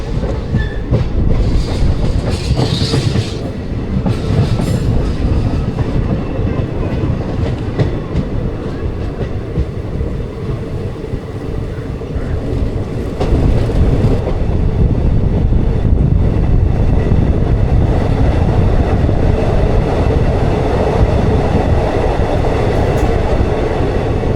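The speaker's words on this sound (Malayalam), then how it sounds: "അങ്ങാടിപ്പുറത്തു നിന്നുള്ള നമ്മുടെ ട്രെയിൻ ഷൊർണൂരിലേക്ക് അടുക്കുന്നു." A passenger train travelling from Angadipuram towards Shoranur in Kerala, with a steady loud rumble and rhythmic clickety-clack of wheels over rail joints running continuously throughout.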